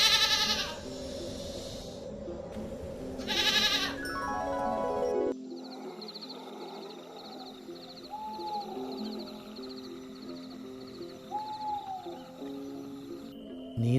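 Sheep bleat in a forest, two loud bleats near the start followed by quieter calls over a soft outdoor background, with fainter bleats later on.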